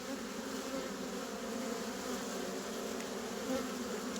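Honeybees crowding back into a hive entrance at an apiary, a faint, continuous buzzing drone of many wings close by, with no voices.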